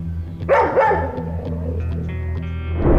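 A dog barks several times in a Costa Rican neighborhood during a news report, its sharp barks rising over steady low background hum and traffic-like rumble, fairly close and loud.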